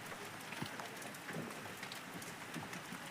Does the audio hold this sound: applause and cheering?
no